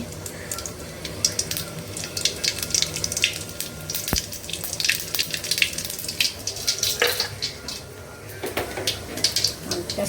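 Whole cumin seeds dropped into hot oil for a Bengali home-cooked dish, giving a steady crackling sizzle with scattered sharp pops that rises and falls over several seconds, with faint background clatter.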